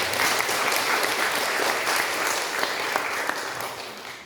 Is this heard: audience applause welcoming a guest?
yes